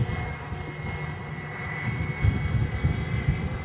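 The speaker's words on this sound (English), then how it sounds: "British Airways shuttle service coming in from London Heathrow." A British Airways airliner arriving from London Heathrow, a steady distant jet engine rumble and whine that swells slightly toward the end, heard alone without talk.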